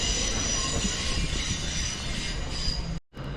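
A delayed TransPennine Express train rolls into a station platform, a loud, continuous rumble of wheels and rail noise with a high squeal, the sound cutting out briefly near the end.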